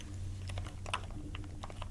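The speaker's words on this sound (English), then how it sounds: "So it's a very heavy, solid keyboard." Typing on a heavy, solid MagForce 68 mechanical keyboard, a quick irregular run of soft clicky keystrokes at close range, fairly quiet and with no talking.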